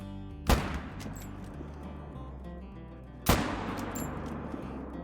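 Two sharp rifle shots in a hunting video game aimed at blackbuck, each a loud crack with a decaying tail, spaced about three seconds apart over quiet ambience.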